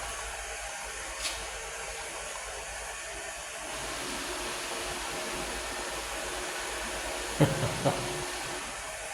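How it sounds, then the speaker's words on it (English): A push-button hand dryer in a marble public toilet blows with a steady, continuous whooshing roar, with a couple of faint knocks near the end. "the hand dryer just suddenly came on by itself. And it's not an electronic one, it's a push button one"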